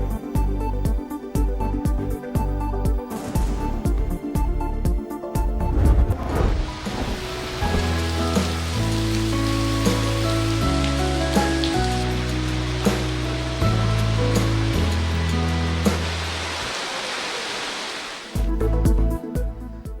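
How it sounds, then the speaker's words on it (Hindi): Heavy torrential rain pours steadily in Islamabad and Rawalpindi news footage, a loud dense wash of water with deep rumbling underneath. "इस्लामाबाद और रावलपिंडी के मुख्तलिफ इलाकों में मूसलाधार बारिश।"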